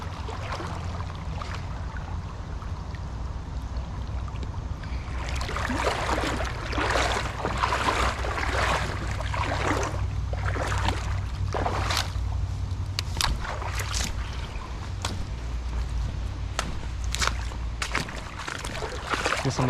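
Feet wade and splash through shallow water in a small Michigan creek, with irregular sloshing steps close by over a steady trickling flow, without talk.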